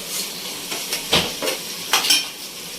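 Spice paste tipped into chillies frying in a pan for a stuffed brinjal curry, with sizzling and a few clinks and scrapes of a spoon against the pan, close and fairly quiet, no talk.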